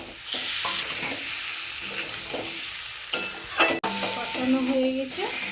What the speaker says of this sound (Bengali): সিদ্ধ করা আলুগুলো দিয়ে দেবো। দেখো বন্ধুরা কি সুন্দর কষা কষা